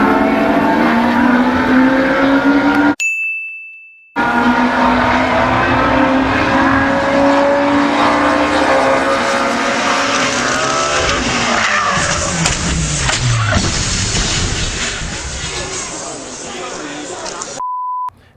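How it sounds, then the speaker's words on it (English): A 1990 BMW M3 Warsteiner Edition race car heard at speed on a track, its engine roaring loud and close with revving, tire squeal and skidding, broken by a brief silence and a short beep. "This is a 1990 BMW M3 Warsteiner Edition race car."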